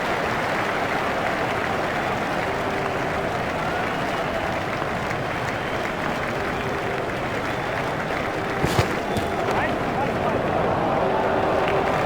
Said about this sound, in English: He deserves every second of this applause.